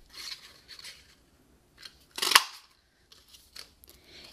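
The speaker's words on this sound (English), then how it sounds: "I'm just going to punch out 2 of the big full acorns out of this piece of cardstock" Acorn Builder Punch stamping big full acorn shapes out of cardstock: one sharp, loud crunching snap stands out, with softer paper rustles and small clicks before and after.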